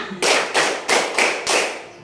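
A class of schoolchildren claps together in a counted pattern: five sharp, loud claps in an even rhythm, each one crisp and close.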